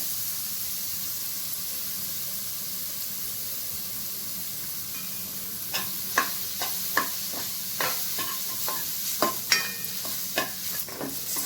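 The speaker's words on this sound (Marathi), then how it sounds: "हे आपला मसाला भाजून झालेला आहे." Coconut and masala are roasted in a pan under a soft steady hiss. About halfway through, a spoon starts scraping and clattering in quick irregular strokes, close and clear. No one speaks.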